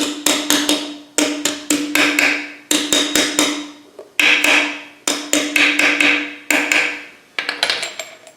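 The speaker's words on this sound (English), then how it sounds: "I'm going to just give it a little tap, tippy tap down" A hammer taps a core plug into the block of a Land Rover 300Tdi engine under rebuild, landing in quick bursts of three to five sharp, ringing metallic knocks with short pauses between.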